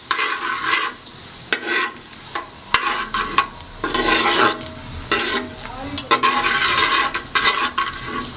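Cumin seeds and green cardamom fry in hot oil for mash dal, a steady sizzle broken by repeated scraping stirs of a spoon against the pan, close and fairly loud, with no one talking.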